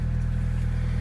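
An Alfa Romeo 147 2.0 Twin Spark engine idles after an alternator install with no auxiliary belt fitted, a steady low, rhythmic rumble with a faint pulsing beat, close and continuous with no talk.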